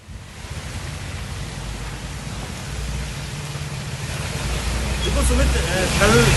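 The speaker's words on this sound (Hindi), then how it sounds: "एक बार फिर से बारिश का दौर शुरू हो चुका है इंदौर में" Heavy monsoon rain falls in Indore during an orange weather alert, a steady broadband hiss of downpour growing slightly louder over several seconds, with a reporter speaking under an umbrella.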